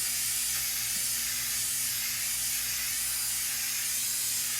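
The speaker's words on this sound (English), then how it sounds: "we're just going to kind of evenly spray the spray mount all over this" Spray mount adhesive hisses in one steady, unbroken jet from an aerosol can as it is spread evenly over a control panel overlay, loud and close with no pauses.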